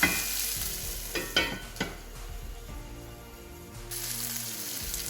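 Goan chorizo sizzles and fries steadily in a pan, with a few sharp stirring scrapes and utensil knocks early on, then a continuous close crackle with no talking.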